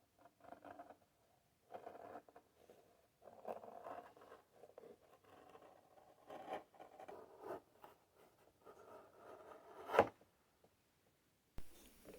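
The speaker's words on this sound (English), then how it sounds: "So I cut out a few patterns and then traced those patterns onto leather, and then cut out that leather." Knife cuts through leather for knife sheaths in short, quiet scraping strokes separated by pauses, faint and close, with a sharp click near the end and no talking.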